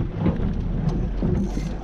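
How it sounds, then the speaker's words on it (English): Wind blowing over open water on a fall fishing trip from a boat, a steady moderate rushing with low buffeting rumble, no talking. "you want wind like this"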